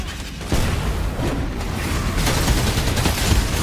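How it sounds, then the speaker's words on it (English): A Trickster character in POE, a video game, throws bombs that set off a dense, loud barrage of overlapping blasts and crackling explosions, starting abruptly and continuing without a break, with no speech. "He literally just throws a bomb."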